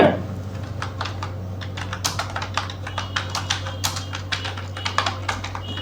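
Steady clicking of keys on a computer keyboard, close by, with an irregular rhythm of quick taps over a low constant hum.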